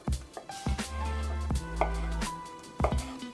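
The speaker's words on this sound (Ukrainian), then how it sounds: "Спершу чесник нарізаю його кільцями" A knife chops through garlic on a cutting board in a series of crisp, close taps with brief ringing between strokes.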